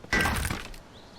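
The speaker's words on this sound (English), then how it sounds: "Chop another deer up with an axe." An axe chops into a deer carcass in the zombie survival game Vein, landing as one loud, dull thunk followed by a short crunching rattle that fades into quiet ambience.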